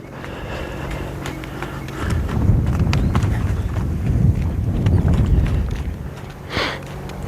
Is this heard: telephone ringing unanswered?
no